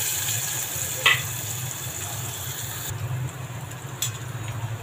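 Onion and asafoetida sizzling in hot oil during a tempering for stuffed brinjal bharta, a steady low frying crackle with a couple of brief sharper clinks of a utensil, fairly quiet and even throughout.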